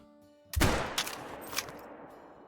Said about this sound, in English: Holy! What a shot. We absolutely just dropped that thing on the trot at 350 yards.